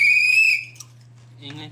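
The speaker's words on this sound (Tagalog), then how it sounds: "Pito. I-blow mo." A whistle is blown once, close and loud: a piercing steady tone for about half a second. A low constant hum runs underneath, and brief speech follows.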